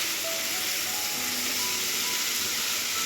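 Chicken pieces fry lightly in a hot pan, giving a loud, steady sizzling hiss that fills the whole stretch without pause, with no voices over it.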